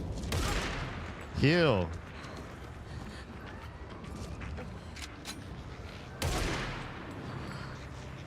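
Gunfire in a video game, with a few sharp shot bursts at the start and middle over a noisy game backdrop, plus a rising electronic warble; a player speaks briefly.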